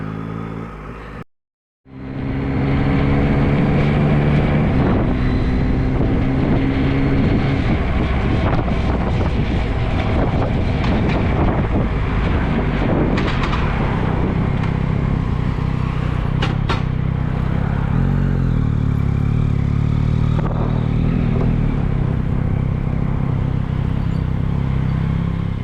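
Heavy wind roar buffets the microphone while riding a 2022 Yamaha MT-09 motorcycle, with a low engine drone underneath; loud and continuous after a brief silent gap near the start.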